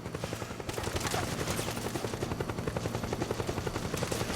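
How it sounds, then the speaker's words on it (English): An enemy helicopter hunts the player in the video game Metal Gear Solid 4, its rotor pulsing in a fast, loud, even rhythm that is mixed with bursts of gunfire throughout. "There's nothing more exciting to me than hiding from a helicopter in Metal Gear that's like hunting me down."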